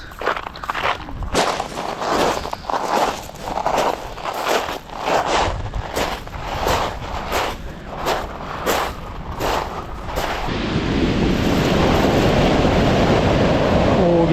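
Surf on a remote beach in eastern Iceland near Seydisfjordur, with waves rushing in as a steady, building wash under wind, after a stretch of crunching footsteps on the shore.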